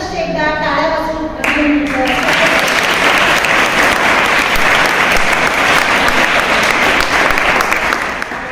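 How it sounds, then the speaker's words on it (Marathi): Sustained, loud applause from a school audience for two guest lecturers, following a brief spoken line at the start and continuing steadily to the end. "तर या दोन्ही मार्गदर्शकांचं आपण पुनश्च एकदा टाळ्या वाजवून"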